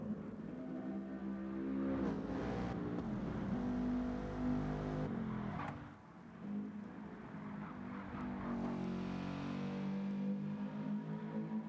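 Touring race car heading out onto the circuit for a practice session, its engine revving and shifting through gears at close range, droning loudly throughout with a brief dip midway before building again.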